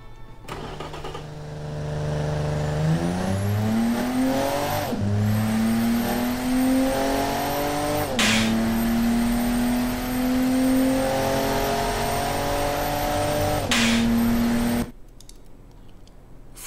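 A race car engine in a driving video game revs and accelerates loudly, rising in pitch through several gear shifts with brief gaps between them, then cuts off abruptly near the end.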